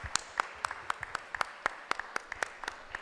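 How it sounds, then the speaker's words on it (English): Light, sparse applause after a talk at a conference, a few people clapping at close range with distinct, overlapping claps in an uneven rhythm over quiet room tone. "let us give him a round of applause"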